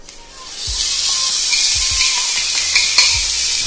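Prawns hit a high-heat stir-fry pan with onions, and a loud, close hiss swells up quickly and stays strong. A few low knocks from the pan break through the sizzle.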